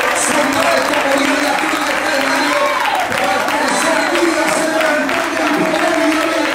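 A congregation applauding in church, a dense, steady wash of clapping that fills the whole stretch, loud and close, with a voice continuing over it.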